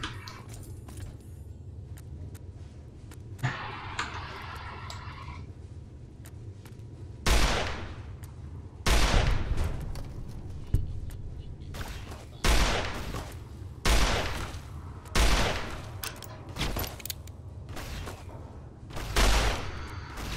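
Plasma weapons fire in Fallout New Vegas in a series of loud, sharp bursts spaced a second or two apart, following a quieter stretch of ambient game sound.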